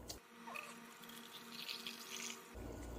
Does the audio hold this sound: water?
yes